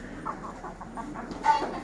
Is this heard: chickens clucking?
yes